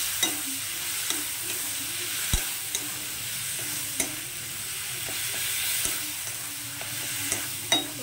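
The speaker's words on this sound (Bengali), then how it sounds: "তো এখন এটাকে আমি একদম কম আঁচে এইভাবে ভাজতে থাকবো।" Mashed drumstick (moringa) being stir-fried in oil over low heat, a soft continuous sizzle with a spatula scraping and tapping the pan at irregular intervals.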